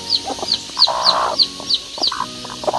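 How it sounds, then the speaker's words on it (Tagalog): Chickens cluck close by in a series of short, repeated calls, with a few louder squawking bursts over a quiet outdoor background. "Daming manok."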